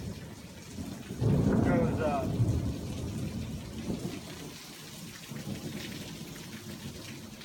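Thunder rumbles loudly through steady heavy rain during a thunderstorm, with a long rolling peak early on that fades back into the constant hiss of rain, and a person speaks briefly.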